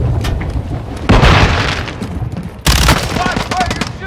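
Heavy gunfire and booming blasts from a Call of Duty Modern Warfare 2 military shootout, two loud bursts of rapid shots and explosions over constant battle noise, with voices shouting underneath.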